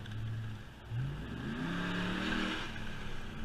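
Exhaust note of a Hemi-powered Ram truck while driving, a deep steady engine drone with a rising rev as it accelerates, heard from inside the cab.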